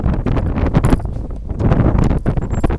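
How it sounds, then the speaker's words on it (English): Gusting wind buffets the microphone outdoors in a quiet hillside neighbourhood of Boise's East End, a steady loud rumble with rustling swells and no talk. "It's windy outside too."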